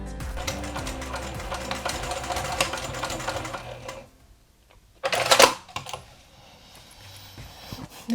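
A sewing machine stitches a pencil zipper pouch trimmed with elastic and rhinestones, running steadily for about four seconds, going quiet, then giving one short burst of stitching.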